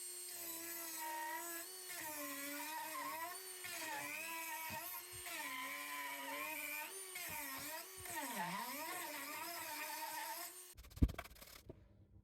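A Dremel 4000 rotary tool with an aggressive cut saw burr cuts into pine with a high, steady whine. The pitch dips and recovers as it bites into the wood, and the tool ends with a clatter.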